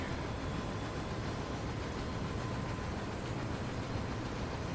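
A steady, broadband rumble and hiss of a rolling freight train in the Train Sim World game on the Acton Yard to Newhaven aggregates run, constant and unbroken throughout with no voices.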